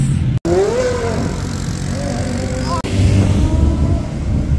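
A Porsche Carrera GT engine on the streets of Monaco, a loud sustained mechanical roar rising and falling in pitch as the car moves nearby, with brief dropouts and a heavier low rumble toward the end.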